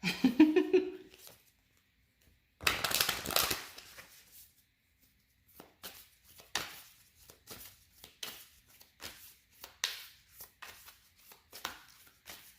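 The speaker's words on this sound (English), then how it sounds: "as I'm shuffling though" Tarot cards being shuffled by hand, with a dense riffling burst followed by a series of soft irregular card taps and slides, close and fairly quiet.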